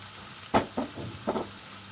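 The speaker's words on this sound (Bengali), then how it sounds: "এই পেঁয়াজটা একটু ভাজা ভাজা হবে" Onion frying in a pan for a chicken Mughlai curry, heard as a few short sizzling bursts and stirring scrapes against a quiet background.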